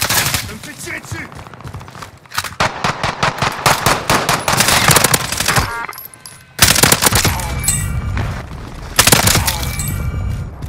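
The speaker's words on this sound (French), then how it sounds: "Je me fais tirer dessus." Rapid automatic gunfire aimed at the player in a first-person shooter game, loud bursts of repeated shots with pauses and crashing impacts, a brief quiet gap, then more heavy firing.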